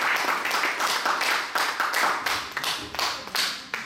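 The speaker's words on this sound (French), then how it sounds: "je voudrais quand même que vous applaudissiez très très fort Monsieur Azhar" A small audience claps in loose, uneven bursts, with distinct individual hand slaps forming a rhythmic pattern that rises and falls over a few seconds, close and fairly loud.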